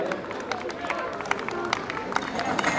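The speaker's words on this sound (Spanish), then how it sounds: "Fuertes aplausos para ellos." Crowd applause for the second-place school at a school award ceremony, dense claps spread through the whole stretch amid crowd murmur and babble.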